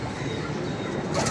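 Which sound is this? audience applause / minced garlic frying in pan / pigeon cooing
pigeon cooing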